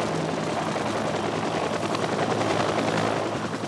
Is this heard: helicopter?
yes